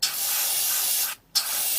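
A steady, bright airbrush hiss sprays continuously, cuts out briefly, then resumes just as loud.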